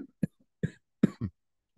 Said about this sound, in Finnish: Anteeksi, yskäsin.